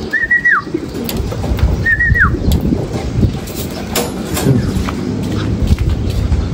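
Racing pigeons come home to the loft after a 185 km summer derby race from San Francisco, Quezon. Two short, bright bird calls ring out early over a steady, busy outdoor background.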